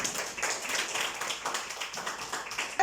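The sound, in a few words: classroom clapping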